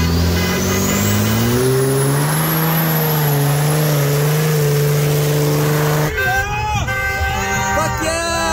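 A car doing a burnout revs loudly and close, its engine pitch climbing and holding high for several seconds before breaking into choppy, fluctuating revs.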